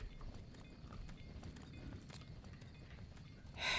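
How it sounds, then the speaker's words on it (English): Hoofed Brahmin cattle walking in a post-apocalyptic wasteland video game, with a dense, steady patter of clip-clopping steps running throughout, ending in a brighter burst of noise. "don't get run over by the Brahmin."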